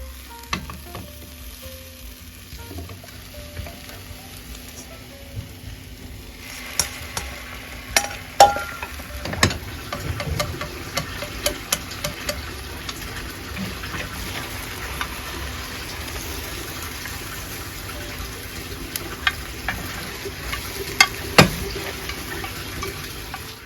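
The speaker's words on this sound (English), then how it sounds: "Using the square frying pan, cook the egg in layers and gently rolling it as it's set" Egg sizzles and fries steadily in a square frying pan as a rolled Japanese omelette is cooked in layers, with scattered clicks and scrapes of utensils against the pan.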